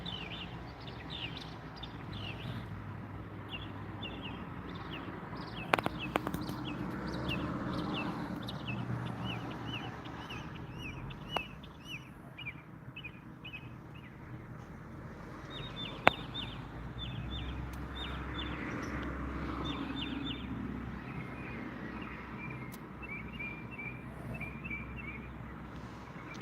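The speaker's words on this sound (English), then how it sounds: "Can you hear those birds singing?" Birds sing outdoors in short, repeated high chirps that come and go against quiet background noise, with a few sharp knocks in between.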